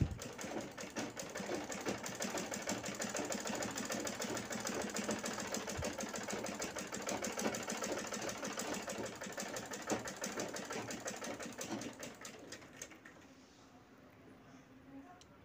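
A sewing machine stitches the sides of a big shopping bag with a fast, continuous mechanical rattle. It runs steadily at close range for about thirteen seconds, then stops, leaving a quieter tail.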